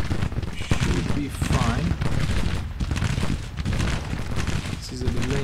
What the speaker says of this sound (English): now we have three units firing at one.